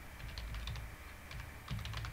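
Keys clatter on a computer keyboard while code is written, soft rapid clicks in short bursts with brief pauses, quiet and close against a faint background hiss.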